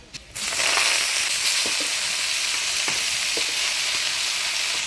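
Greens hit hot oil seasoned with dried red chili, nigella seeds and crushed garlic, bursting into a loud, steady sizzle after a brief quiet start, with occasional stirring clicks.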